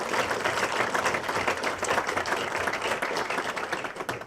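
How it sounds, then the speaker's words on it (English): A crowd applauds steadily, dense clapping that stays loud and even throughout with no speech. "I think we just ought to give him a round of applause"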